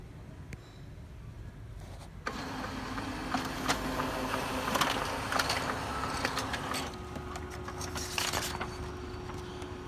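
An HP LaserJet Pro MFP M428 laser printer runs a Wi-Fi password page, its steady mechanical whir and feed noise rising after a quiet start and holding at a moderate level, with a faint tonal hum and a few brief clicks along the way.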